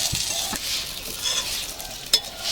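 Eggplant slices fry in oil in a pan with a steady, close sizzle and a brief metallic clink near the end; nobody speaks.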